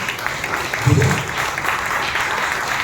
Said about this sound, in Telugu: బిగ్గరగా చప్పట్లు కొట్టి ప్రభువుని మహిమపరచండి